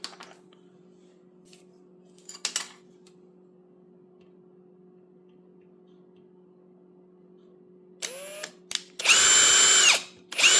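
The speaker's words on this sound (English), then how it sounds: "Now it's time to drill and tap again." A power drill bores a hole for tapping a turntable switch mount, starting with a short burst, then giving loud, sustained whining runs near the end against a quiet electrical hum.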